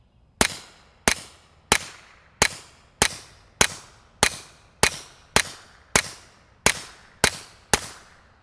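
A Retay RXP22 .22 pistol fires Federal Auto Match ammunition: thirteen sharp, loud cracks at a steady, evenly spaced pace, each with a quick decaying tail.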